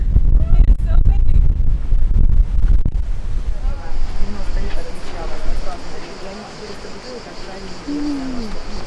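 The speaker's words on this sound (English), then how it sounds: "It is so windy." Strong wind buffeting the microphone on the Mediterranean coast near Portofino, Italy, a loud continuous roar with surf-like rushing, persisting throughout while people talk early on.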